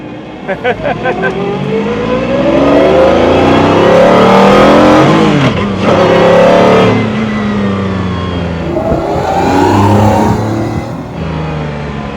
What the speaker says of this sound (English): The whines of the gearbox.